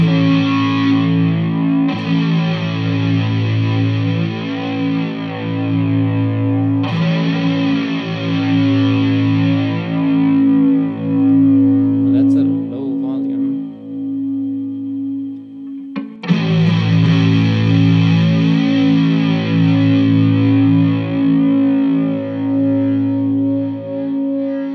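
Electric guitar played through a Marshall Code 50 amp on its 50s British EL34 preset, with crunchy distorted chords ringing out and pausing between phrases, heard alone and up close.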